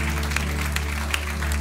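Applause from a congregation at a church service, a dense, steady clapping at moderate loudness over a low sustained background hum, lasting under two seconds.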